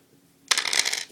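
Six dice for a game of Farkle are dropped together, giving a sudden bright clatter that rattles on briefly after a near-silent moment.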